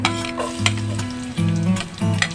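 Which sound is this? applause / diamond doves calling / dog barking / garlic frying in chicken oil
garlic frying in chicken oil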